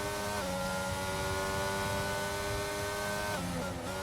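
Race cars in a racing video game at the Brazil circuit roar past as a sustained, loud engine drone with climbing pitch, then a brief dip and rise near the end as gears shift, no talk.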